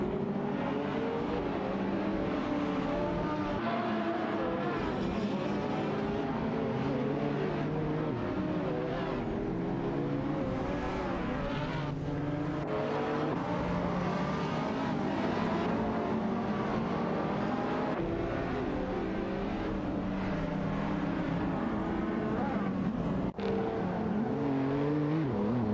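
Lamborghini Gallardo race cars in a racing video game scream continuously at high revs, with engine notes rising and falling through gear changes and several cars passing, loud and sustained throughout.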